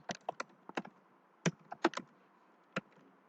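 Close keystrokes on a computer keyboard while code is typed, irregular clusters of crisp taps separated by short pauses, alone without voices.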